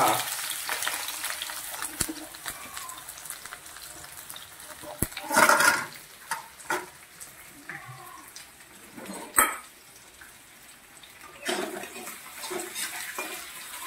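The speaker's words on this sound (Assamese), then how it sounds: "এনেকৈ ভাজি ল'ব লাগে ভাজি লৈ পেলাই অলপমান তাৰপৰা সোণালী কালাৰ হ'ব লাগিব পিঁয়াজটো" Onion frying toward golden in a pan for a pork recipe, giving a continuous hissing sizzle with occasional louder bursts and stirring scrapes, close by, with a voice talking intermittently over it.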